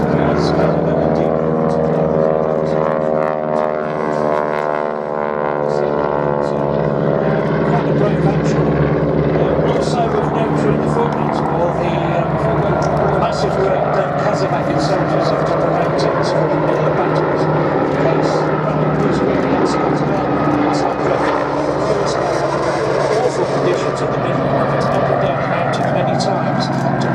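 An Argentine Air Force Pucará twin turboprop flies at the Duxford air show, a loud, sustained propeller drone with shifting pitch that holds throughout under ongoing commentary.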